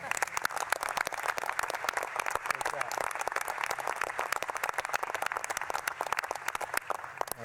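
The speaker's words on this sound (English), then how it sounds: "I think that's worth a round of applause." Sustained, dense round of applause at a government space council meeting, loud and continuous from many hands throughout.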